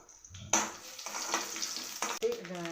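Mustard seeds, chillies and curry leaves hit hot oil with a sudden burst of sizzling. A busy, crackling fry follows, close by and moderately loud, with brief spatters near the end.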